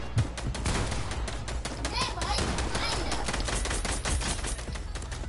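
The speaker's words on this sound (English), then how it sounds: "Ryan's spamming his SMG" Rapid bursts of submachine gun fire in Fortnite, sharp repeated shots clustered into fast sprays over a busy game soundscape, with some voices underneath.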